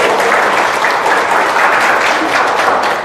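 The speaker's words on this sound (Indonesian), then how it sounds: "Tepuk tangan dong buat TR90." Loud, dense audience applause fills a supplement presentation hall, a continuous wall of clapping sustained for about three seconds with no voices over it.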